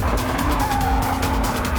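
Race car on a track lap sliding as its rear end breaks loose, a loud sustained engine roar with a drawn-out tire squeal, heard from close by, with no talk.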